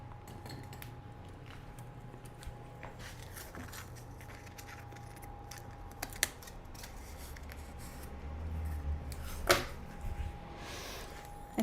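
Scissors snip at paper in scattered, irregular cuts, close and soft, building to a sharper crisp snip near the end; no one speaks.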